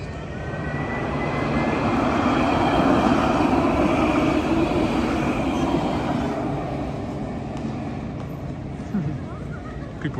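A tram passes through the streets of Nice on the French Riviera at night, a sustained broad rumble that swells and then slowly eases off, fairly loud and continuous.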